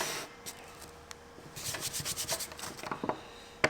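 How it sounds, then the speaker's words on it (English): Sandpaper rubbed across a campervan flooring sample, quiet at first, then a run of rapid scratchy back-and-forth strokes, close and fairly soft, ending with a sharper scrape. "Let's do the sandpaper test."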